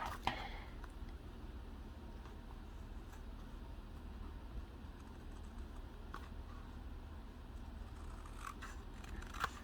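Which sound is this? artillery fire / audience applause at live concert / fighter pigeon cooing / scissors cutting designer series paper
scissors cutting designer series paper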